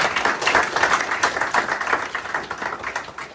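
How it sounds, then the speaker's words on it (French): Fans at an amateur football match day applaud in a steady, moderately loud patter of many hands clapping, fairly close, with no voices over it. "Younes Fati, on va les applaudir."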